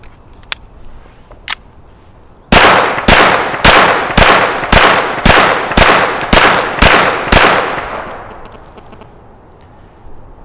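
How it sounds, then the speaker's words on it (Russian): Ten sharp shots from a Vendetta 9 mm PA traumatic pistol fired at a target, loud and evenly spaced about half a second apart, with a couple of faint clicks before the string and a ringing tail after. "Я произвел 10 выстрелов в мишень."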